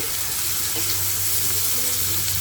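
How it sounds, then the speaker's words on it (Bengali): Water is poured into a pan of fried-down masala while cooking pabda fish hariyali, a steady close splashing and running-water hiss with a faint sizzle, heard alone without talk. "এবার জল দিয়ে নেব"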